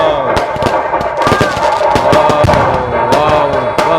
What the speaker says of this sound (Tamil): கண்டினியூ வெடிக்குது பார்த்தீங்களா